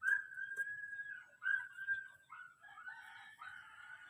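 A chicken calls out in a drawn-out, wavering squawk, then breaks into shorter clucking notes, fairly close in a quiet setting.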